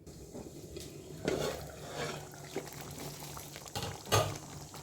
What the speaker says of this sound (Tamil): இப்போ நல்லா மிக்ஸ் கொடுத்து மூடி போட்டு மூடிக்குவோம். கொதிக்கட்டும்.